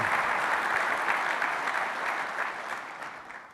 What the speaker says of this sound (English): So let's give them a huge round of applause and thanks for sponsoring the conference